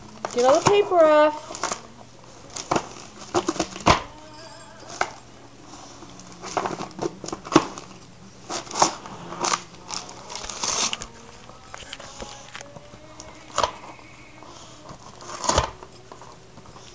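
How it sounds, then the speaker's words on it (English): Wrapping paper is torn off a present in a series of sharp, irregular rips and crinkles, some close and loud, with people talking intermittently in the background. "Gonna get all the paper off."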